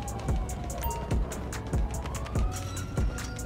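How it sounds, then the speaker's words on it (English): An ambulance siren wails in GTA 5, moderately faint and wavering beneath a steady, repeating thumping beat. "And ambulance pulling up on the scene."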